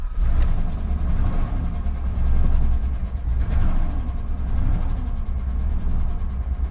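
A 1972 Chevy crew cab truck engine idles nearby with a steady, loud, low rumble and slight uneven pulsing throughout, with no voices over it.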